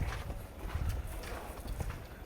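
A very large, heavy cow walks on the ground, its hooves thudding in a soft, irregular clip-clop rhythm under a steady background murmur, close and faint.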